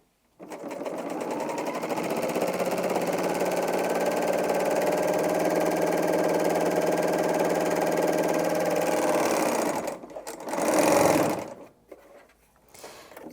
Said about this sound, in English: quite quiet as well, this machine, for an overlocker